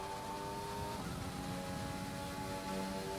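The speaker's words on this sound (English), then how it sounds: "Got like a car bogged down there. Such a weird noise." Steady race car engine drone during a sim racing event at Zandvoort, a continuous, fairly loud tone that dips and strains partway through as if bogging down.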